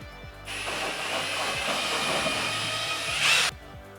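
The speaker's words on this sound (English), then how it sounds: "my KitchenAid is an AEG drill" An AEG power drill mixing tile adhesive runs loud and close for about three seconds, whirring steadily before cutting off abruptly, with a brief rise in pitch near the end.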